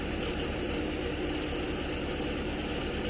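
A Poliana 2.4 seeder at work in a field during sowing, with a tractor engine droning steadily and loudly at close range, a constant low rumble and no variation.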